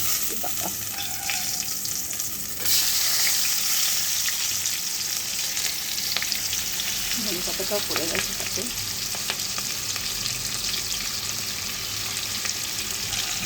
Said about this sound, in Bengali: এই তেলেতে পেঁয়াজটা ভেজে নেবো।